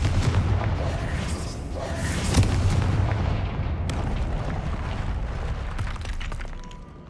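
Confringo blast spell exploding in Hogwarts Legacy, a loud booming burst with rumbling debris and crackling that fades over several seconds, with no talk.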